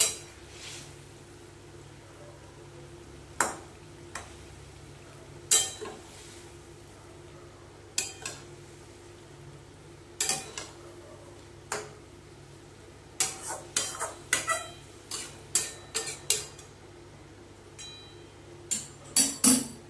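A spoon knocks and clinks against a pot while mung dal is stirred together with water lily stems and coconut. Sporadic sharp taps come first, then a denser cluster of clinks near the end, with no talking.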